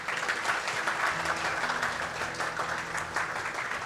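An audience at a victory celebration for an Ayurvedic remedy applauds, a dense, steady crowd of hands clapping that carries on at full strength, loud and close, with no voices over it.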